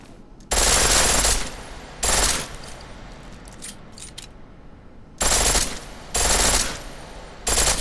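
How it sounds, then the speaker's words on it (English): Loud, rapid full-auto fire from a pistol in Deus Ex: Mankind Divided comes in several sustained bursts, each about a second long, with quieter gaps and faint game sounds between them. "The pistol in full auto will take down targets fast, but it'll burn through your ammo"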